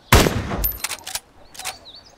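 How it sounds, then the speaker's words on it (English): A loud, close rifle shot fires in the video game DayZ, a sharp blast followed by a few fainter echoing cracks and a brief tail. "I'm gonna take a shot."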